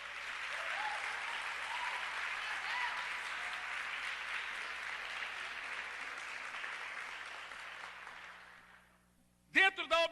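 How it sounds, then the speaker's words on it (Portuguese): Applause from a church congregation during a sermon on prophetic eschatology, steady and full for about nine seconds before fading out, followed by a brief burst of speech. "Vamos aplaudir?"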